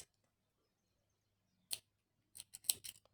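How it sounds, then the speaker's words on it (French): Scissors snipping crochet yarn while finishing a crocheted glasses case, one close click followed after a pause by a quick run of several small snips, in a quiet room. "Et je coupe mon fil."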